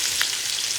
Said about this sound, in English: we'll just let these fry a little longer